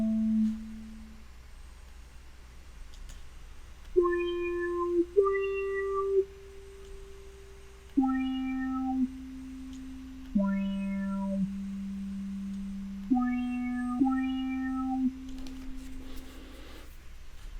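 A Max/MSP synthesizer plays a sequence of sustained, pure-toned notes at varying pitches, each swelling in through a slow filter attack and holding for a second or two, clean and alone.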